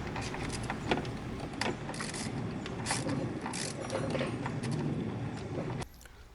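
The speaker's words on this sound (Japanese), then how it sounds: "本体に止まっているボルトを外していきます" Ratchet work on the bolts holding the high-pressure fuel pump of an R56 MINI Cooper S, a steady run of clicking and metallic mechanism noise, fairly loud and close, ending abruptly near the end.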